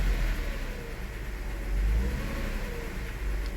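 A Toyota engine with a suspected misfire runs at low RPM despite a new coil and plugs, a close, steady engine drone that swells briefly near the middle, no voices.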